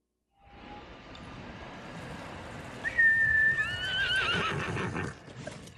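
A horse whinnies loudly with rising and falling pitch in Ghost of Tsushima, following a quieter stretch of rumbling ambience; no one speaks.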